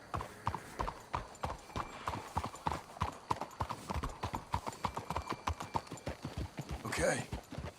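Steady clip-clop of horse hooves in a quick rhythm, with a brief whinny near the end and some faint voices under it, in the video game Red Dead Redemption 2.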